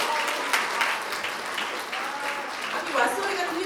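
Audience applause at a county youth policy market presentation in Goesan, South Korea: steady, dense clapping fills the whole stretch, swelling slightly near the end, with faint voices mixed in.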